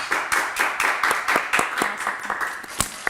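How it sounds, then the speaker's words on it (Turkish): Studio audience on a Turkish word game show breaks into clapping: a steady run of sharp, evenly spaced hand claps, fairly close and loud, with no talking over it. "Bir alkış"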